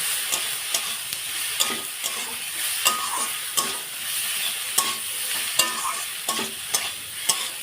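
Chunky potato filling for momos frying in a pan, a continuous close sizzle punctuated by regular spatula scrapes and taps roughly every second, steady and unaccompanied by voices.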